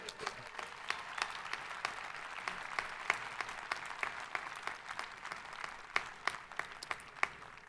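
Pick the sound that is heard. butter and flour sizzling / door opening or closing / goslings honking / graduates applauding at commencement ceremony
graduates applauding at commencement ceremony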